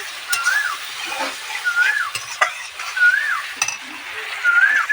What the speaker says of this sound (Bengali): টমেটো বটাটা আবার একটুখানি ভালো মতন কষিয়ে নেবো